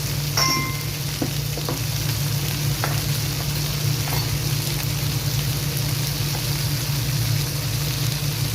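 Onion and tomato frying with salt and turmeric in a pan, a continuous soft sizzle with a few light clicks of stirring, moderately close and steady.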